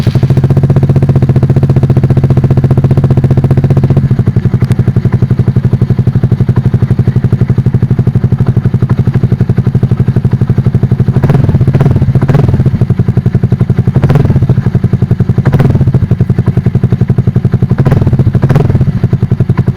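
An Easyride 150fi motorcycle fitted with an Akrapovic exhaust pipe idles loud and close with a steady throbbing rumble, its tone shifting early on, then several sharp throttle blips rise and fall over the idle.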